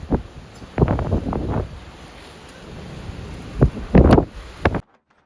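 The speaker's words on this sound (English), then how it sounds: "I've never seen it this windy here." A strong coastal wind storm roars and buffets a microphone on the sea cliffs, coming in loud irregular gusts with a steady rush of surf beneath, then cutting off abruptly.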